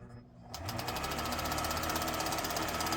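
A 70-year-old Elna sewing machine stitches through four layers of marine vinyl, starting after a brief quiet moment and then running loud and steady with a rapid, even mechanical chatter close to the microphone.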